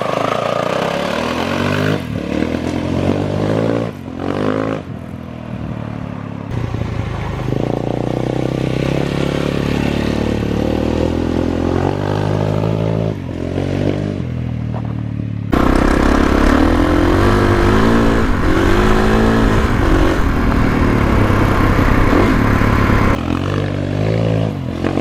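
A 2021 Kawasaki KX450X dirt bike engine revs and clatters continuously throughout on an early break-in ride, loud and close, with a harsher, louder stretch in the second half and no talk.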